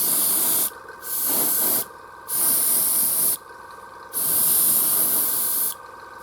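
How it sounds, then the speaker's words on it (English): An airbrush sprays paint onto Necromunda terrain walls in four close, loud bursts of airy hiss, each lasting about a second, separated by short pauses. "An airbrush really does speed this up"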